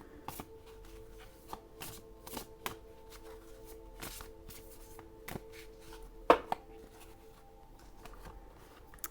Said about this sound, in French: Et on va prendre 2 cartes sur ce jeu-là.